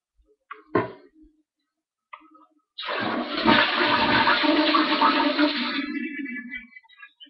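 A toilet fitted with a new fill valve and flapper flushes after a few short clicks and a handle knock, a loud rushing swirl of water that drains for about three seconds, then fades into gurgling refill.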